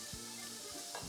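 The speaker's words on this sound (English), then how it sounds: "So while that starts sizzling away" Steady, dense sizzling of bacon frying in a pan, a continuous hissing crackle with a couple of faint tonal blips underneath.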